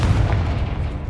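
A heavy fiery blast from the Confringo spell in Hogwarts Legacy, a single loud booming burst with a low rumbling body that fills the whole moment.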